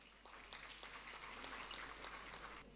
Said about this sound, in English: Ladies and gentlemen, a round of applause for them.